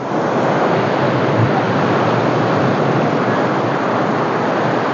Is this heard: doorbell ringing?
no